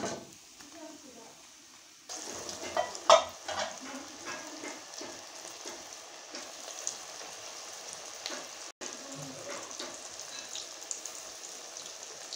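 Potato and onion pakoras frying in hot oil, a faint continuous crackling sizzle with occasional louder pops and spatula clinks, starting after a quieter opening.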